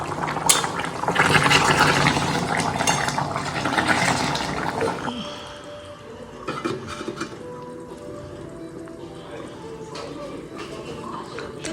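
Hot water is poured into a cooking pot on the stove, a loud rushing splash lasting about five seconds before it settles into a quieter, steady bubbling hiss.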